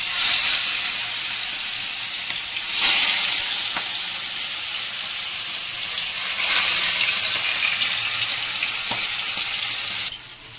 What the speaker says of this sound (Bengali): তেল গরম হয়ে গেছে, এখন আমি মাছগুলো ছেড়ে দিব